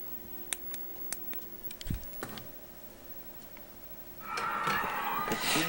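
A few sparse, sharp clicks of keys pressed on the keyboard of an RCA 24V511T CRT television, spaced out with quiet pauses, followed by a burst of hissing static.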